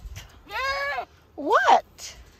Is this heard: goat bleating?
yes